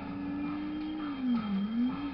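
A traffic car in Test Drive 5 on a snowy Bern, Switzerland street, its steady engine drone rising and falling in pitch as it passes close by, alone without talk.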